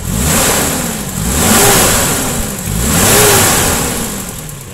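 A Toyota Kijang 5K engine is blipped repeatedly, three rising and falling revs over a steady idle, loud and close with no talking.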